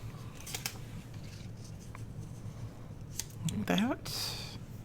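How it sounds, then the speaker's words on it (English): Scissors cutting up paper for crafting a masterboard with doilies and tags: a few soft snips over a low background hum, then a louder, brighter cut near the end. "Now these will be cut up and used in different places, like that."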